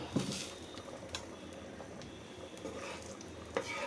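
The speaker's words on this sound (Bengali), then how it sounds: "নিহারিটা এখন বাগার দিয়ে ফেলবো।" Nihari of beef bones cooked with papaya being tempered with fried onions, a steady soft sizzle and crackle of hot oil hitting the stew, with occasional stirring and scraping of the pot close by.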